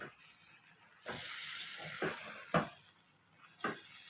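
Broken dried red chillies drop into hot oil for a restaurant-style chicken curry, making a soft, steady sizzle punctuated by four sharp crackling bursts.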